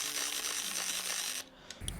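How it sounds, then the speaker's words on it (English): The film advance crank of a Hasselblad 500 C/M medium-format camera ratchets briefly up close, a quick run of fine mechanical clicks ending in a soft clunk, quiet and alone. "even the crank when you're trying to roll in your film like"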